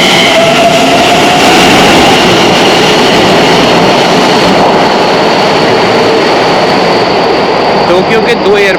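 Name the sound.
Asakusa Line metro train passing, bound for Haneda, Tokyo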